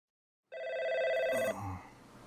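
An old telephone beside a sofa in the visual novel Baldr Sky rings with a bright electric bell, starting abruptly after silence, one sustained ring of about a second that then drops into a fainter decaying tail.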